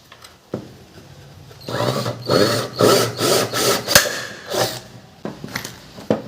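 A power drill boring a hole into an old radio case from a scrap shop, in short bursts of whirring and grinding with brief pauses and a sharp click, close by and loud, with no talking.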